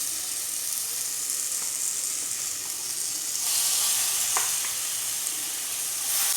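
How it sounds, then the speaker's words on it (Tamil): Tomatoes and vegetables fry for sambar in a pan, giving a constant close sizzling hiss that swells louder partway through, with a few light stirring taps, and no voices. "கட் பண்ணி வச்சுருக்க 2 பெரிய தக்காளியை ஆட் பண்ணிக்கலாங்க."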